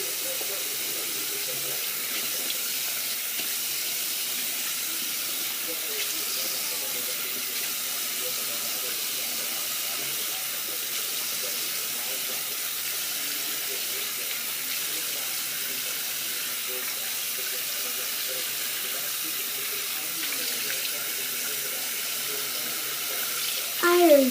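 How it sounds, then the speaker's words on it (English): A water tap runs steadily in a bathroom sink during a curly hair wave grooming session, a continuous close hiss and splash that holds without a break until a brief louder burst at the end. "I'm going to turn on the water."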